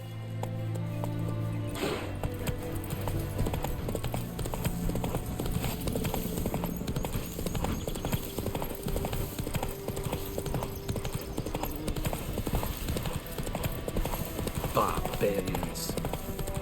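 A horse in The Witcher 3 gallops with a steady, rapid clip-clop of hooves that runs throughout, close and continuous, under game music and a brief spoken line.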